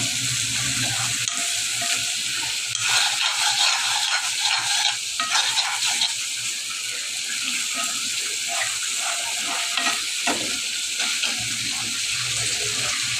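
Dried fish (shutki) frying in oil in a pan, a steady close sizzle with occasional stirring scrapes throughout, no talk.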